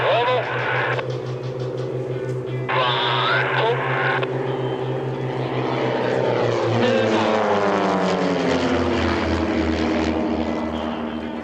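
Propeller aerobatic planes of Team Redline fly in formation at an airshow, a loud, droning engine whine that rises and shifts in pitch as they pass, with an announcer talking over it.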